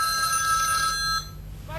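A mobile phone rings in a live news studio during a heated televised debate, a steady tonal ringtone that stops partway through, leaving quieter room noise.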